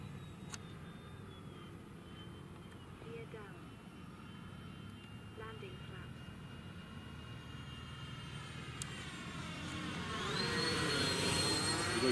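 A Freewing A-10 radio-controlled model jet flying past with its landing gear down, heard outdoors in a forest setting; a faint, steady whine that swells louder toward the end as the model approaches.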